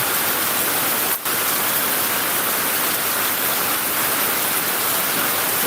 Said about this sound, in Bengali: এই মুহূর্তে মুসলধারে বৃষ্টি হচ্ছে